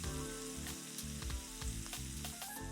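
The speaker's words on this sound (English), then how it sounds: "Next, add the butter to the Medley XL until melted." Butter melts and sizzles in a Nuwave Medley XL, a steady close frying hiss with faint pops throughout, alone with no voices.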